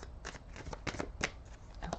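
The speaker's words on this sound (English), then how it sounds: "So let's shuffle a little bit more," A deck of Gilded Tarot cards is shuffled in a quiet room, giving soft riffling and flicking bursts that repeat in an uneven rhythm, close and faint, with no one talking.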